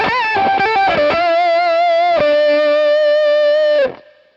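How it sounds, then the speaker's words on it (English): An electric guitar played through the overdrive channel of a Fender Hot Rod Deluxe amp. A few quick picked notes lead into a loud sustained distorted bend that slides down and is cut off near the end. "Let's try to run the overdrive channel on this Fender Hot Rod Deluxe."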